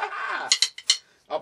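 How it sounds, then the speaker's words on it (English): Drumsticks clicked together, a handful of short sharp wooden clicks in an uneven pattern after a brief spoken word, close and fairly quiet. "Hear me click my sticks?"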